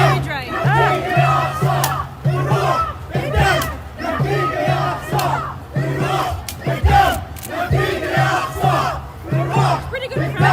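A large crowd at an emergency street protest for Palestine in Minneapolis chants in loud, rhythmic bursts, voices rising and falling together in repeated call-like phrases throughout.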